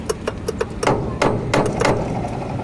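On a Hino truck, a magnetic switch clicks repeatedly in quick irregular bursts of sharp, close taps over a low background rumble.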